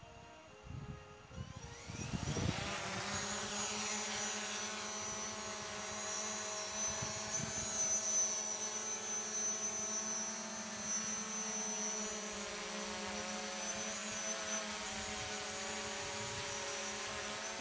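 A camera drone flies over Vorderer Gosausee, an Alpine lake in Austria. After a couple of seconds it gives a steady, high buzzing whine, fairly close and even in level, with no talking.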